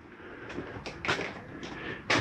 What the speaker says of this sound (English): Make sure all your doors and drawers are closed.